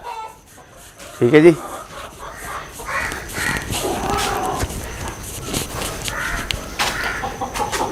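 Chickens cluck in a short burst on a free range turkey and poultry farm, followed by a faint, busy background of bird calls and farm noise while someone speaks briefly.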